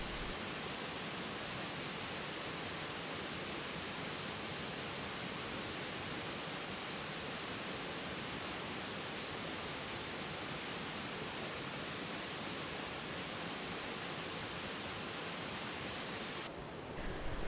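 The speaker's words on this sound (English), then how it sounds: "It's a pretty small waterfall at only 20 feet high, but it plunges into a big pool at the bottom" Schoolhouse Falls, a small 20-foot waterfall plunging into a big swimming pool, roars as a steady, dense wash of falling water heard from nearby, unbroken and with no voices.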